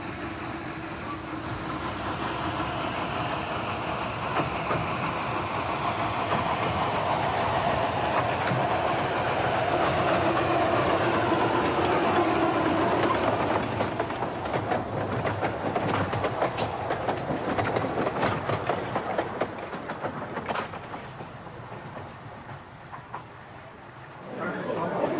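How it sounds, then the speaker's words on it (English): A steam train rolls steadily along the tracks with a continuous rumble and rhythmic clatter, loud throughout, fading slightly toward the end. "it wasn't too long before the test train escaped the boundaries of the station yard"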